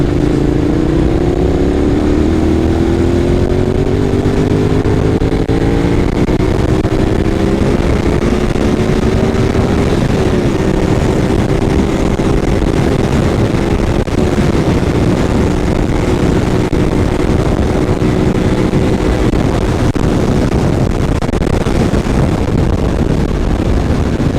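A 250cc Honda VTR 250 motorcycle engine runs loud and close, its pitch climbing through several rising pulls as it accelerates, with wind rushing over the microphone throughout.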